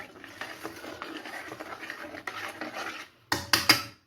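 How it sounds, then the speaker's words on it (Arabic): A spoon scrapes and clinks against a bowl while a mixture with sugar is stirred, irregular close scraping strokes followed by a few sharper knocks at the end. "كنحركو الكل مزيان"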